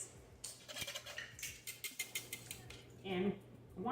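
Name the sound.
whisking cornbread dry ingredients in a bowl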